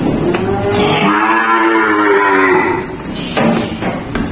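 Cattle at a cattle dealer's pen give a loud, long, close moo lasting a couple of seconds, followed by shorter lowing and shuffling noises from the herd.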